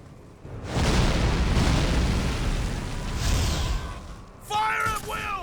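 Cannon fire and explosions on a Warhammer: Mark of Chaos battlefield: a loud, sustained rumbling blast roll lasting several seconds, then sharper bursts with ringing tonal sweeps near the end, with unit voice lines in the mix.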